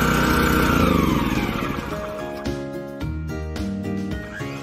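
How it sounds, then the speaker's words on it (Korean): A Mitsubishi engine on a DNG2000 pesticide sprayer runs loudly and close by, starting with a rough roar that settles into a steady mechanical drone with a few small bumps in pitch. "이번 DNG2000 모델은 분무기는 국내산 자동 분무기, 엔진은 미쓰비시 신마력 엔진을 탑재하였습니다."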